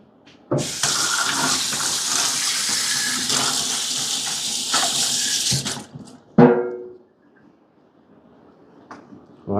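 A Sonic S7 manual lever espresso machine flushes water through its group head in a loud, steady gushing stream for about five seconds, then stops, followed by a sharp clunk and a few faint drips.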